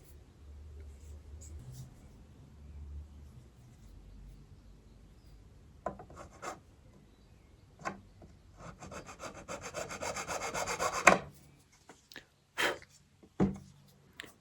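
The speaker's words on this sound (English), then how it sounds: "then I'll find my little tiny file that I use to trim the ends, and then I'll file that down" A tiny file trims the ends of guitar fretboard binding, producing a run of close rasping strokes that build to a dense filing burst, followed by a few sharp scrapes and taps after quiet handling.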